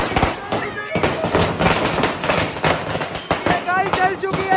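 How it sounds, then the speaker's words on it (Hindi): A string of 2000 firecrackers goes off for Diwali, a loud, dense, rapid crackle of bangs that continues without a break, with voices heard amid the blasts. "अब हम 2000 बम की लड़ी लगाने जा रहे हैं।"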